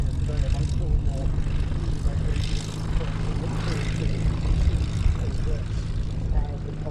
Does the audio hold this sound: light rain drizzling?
no